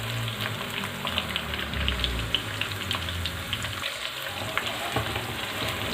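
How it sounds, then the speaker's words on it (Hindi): Garlic and a piece of ginger frying in a pan alongside onions for a desi chicken karahi, giving a steady close sizzle with light stirring scrapes throughout, no voices. "इसके अंदर और जो है लहसुन के और 1 अदरक का पीस है ये भी डाल देंगे। इसको भी फ्राई होने दें।"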